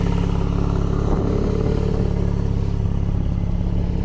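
A loud, continuous engine roar from a Porsche 911 Turbo S (992) with downpipes, an Akrapovic exhaust and an 800-horsepower tune, a deep rumbling exhaust note held steady and close.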